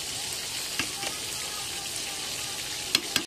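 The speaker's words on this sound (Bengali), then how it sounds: "এদিকে ভাজাগুলো কেটে ভাজা বসিয়ে দিয়েছি, 5 রকম ভাজা হচ্ছে আমাদের, ভেন্ডি, কাকরোল, কাঁচকলা, আর এদিকে বেগুন আর পটল" Okra, bitter gourd, green plantain, eggplant and pointed gourd frying in oil, giving a steady, dense sizzle throughout, with a few sharp pops and spatters near the end, close and alone.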